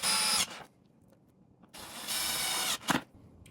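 A power drill drives supplied screws into a drawer glide, two bursts of whirring at steady speed with a short pause between, close and loud, followed by a brief rattle and quiet.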